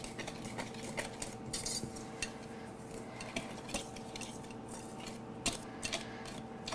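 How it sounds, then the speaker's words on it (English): A metal whisk mixes banana bread batter in a bowl, giving a steady run of close, quiet clinks and scrapes against the bowl, with no talking. "I'm going to take my whisk and I'm just going to mix it all up"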